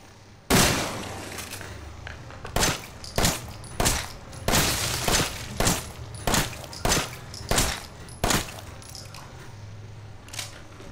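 Gunfire in the video game Resident Evil 7: about a dozen sharp, loud shots at irregular intervals, each with a short echoing tail, over a low steady ambient hum with no talking.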